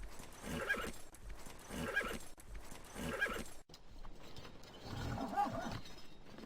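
Horses on a film set for The Last Samurai whinny and neigh in repeated bursts over hoof clatter, moderately loud and close, with no talk.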